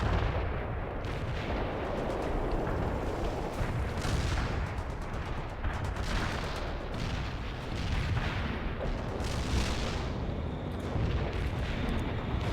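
Artillery barrage in World in Conflict, a Soviet assault mission: a dense, continuous rumble of overlapping shell blasts and booms with no pause, loud and sustained throughout, with no talk over it.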